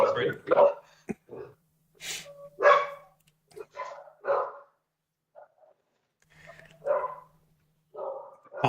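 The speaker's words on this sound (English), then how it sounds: "my dogs are going buck wild in the background" Pet dogs bark in excited bursts in the background, sharp and fairly close, intermittent through the stretch while people talk over a tabletop dice game.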